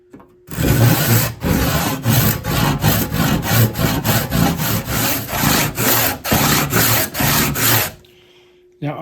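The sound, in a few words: hand sawing a kerf into a wooden axe handle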